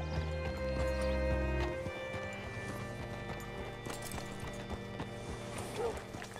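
Horse hooves clip-clop steadily at a walking pace in Red Dead Redemption 2, rhythmic and close, with game voices and ambient sound underneath.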